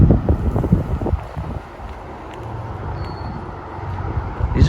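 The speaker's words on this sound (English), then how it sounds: "it's getting windy." Wind gusts blowing across a microphone outdoors in a fall garden, heavy rumbling buffets at the start easing to a steadier low roar, then picking up again at the end, with no one speaking.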